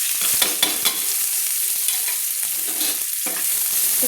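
Chopped onion dropped into hot oil with whole cumin, frying with a constant bright sizzle and crackle, dotted with short clicks and scrapes as it settles in the pan.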